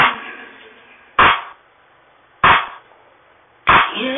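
Three sharp, loud clap hits land at a steady interval in a simple beat, each a crisp burst with a short decaying tail, separated by quieter background.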